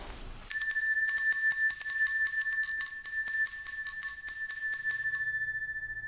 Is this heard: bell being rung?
yes